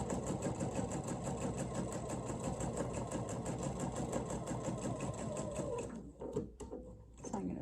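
Sewing machine stitching through rubber shelf liner: a close, continuous mechanical whirr that runs steadily, then stops near the end, leaving a few small clunks and handling noises.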